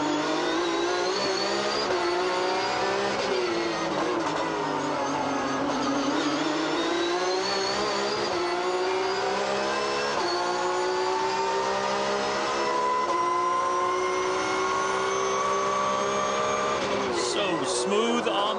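A Porsche GT3 Cup race car at Circuit Trois-Rivieres in 2017 screams around the track, its loud, close engine holding high revs that sweep up and down through the gears for the whole stretch.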